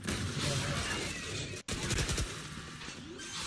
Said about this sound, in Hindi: तोरी पीछे पर शॉट्स देने की कोशिश कर रहा है